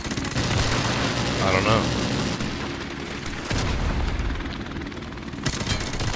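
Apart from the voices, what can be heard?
AK rifle gunfire in the video game Call of Duty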